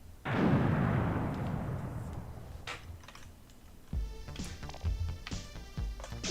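A bomb going off in the Zelda CD-i HD remaster game: one loud, booming blast that rolls away over a couple of seconds, followed by a patter of lighter game sounds and thuds.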